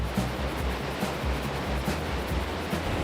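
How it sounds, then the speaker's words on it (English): Rushing river waterfalls at Goodman Park, Wisconsin, roar as a steady, loud broadband wash of churning water, close by and continuous, with no voices over it. "A short walk will bring you to the river and a section of waterfalls."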